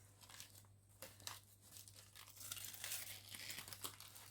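Damp, slightly mouldy paper wrapping from a cactus parcel crinkles and rustles in close, irregular bursts over a low steady hum, with no talk.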